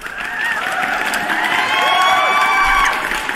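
A small crowd cheers and whoops with some clapping, loud and close, with rising and falling shouts that hold steady for a few seconds.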